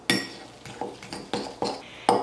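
Spoon scraping and clinking against a bowl while cookie crumbs and two tablespoons of butter are mixed for a cake batter cheesecake dessert cup: six sharp knocks in a steady rhythm, close and clear, with no talking.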